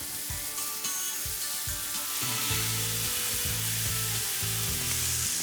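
Steak browning in butter in a hot pan, a steady loud sizzle and crackle with rhythmic scraping or stirring thumps in the second half, no talking.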